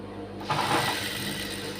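A sewing machine stitching a blouse starts up about halfway through and runs as a steady, close mechanical whir to the end, with no talking.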